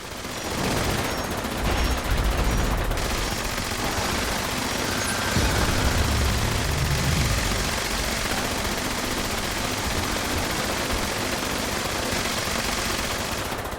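Heavy artillery and gunfire in Fallout 76 during a Scorchbeast Queen fight, a loud, continuous barrage of booming blasts and rattling shots filling the whole stretch.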